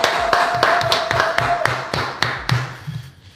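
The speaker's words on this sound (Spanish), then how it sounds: "vamos a recibir con un aplauso a nuestro invitado del día de hoy" Studio audience applause greets guest Alberto Fernández on a talk show, sounding as a handful of close, distinct claps in an uneven rhythm that thin out and fade.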